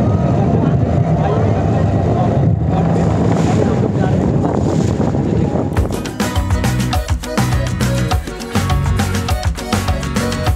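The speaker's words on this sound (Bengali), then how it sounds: "এবার আমাদের যে লঞ্চ রয়েছে সেটা কিন্তু ছেড়ে দিয়েছে।" A passenger launch boat pulls away from the Namkhana ferry ghat, bound for Gangasagar during the 2025 Gangasagar Mela, its engine rumbling under steady wind and water noise. Sharper clattering takes over partway through.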